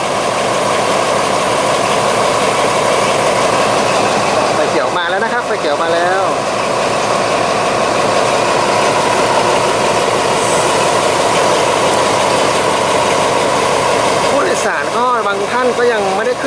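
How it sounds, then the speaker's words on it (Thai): A heavy diesel train engine idles at Chiang Rak Noi station with a continuous low rumble while someone speaks over it at two points. "ตอนนี้ขบวนรถไฟน่าจะรอสัญญาณไฟเขียวอยู่นะครับ"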